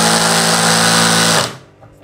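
A Bosch GSB 185-LI cordless drill driving a screw on torque setting 1 whines loud and steady for about a second and a half, then cuts off abruptly into near silence.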